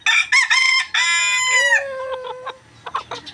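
A rooster crows loudly and close, a long strained cock-a-doodle-doo, followed by a few softer clucks.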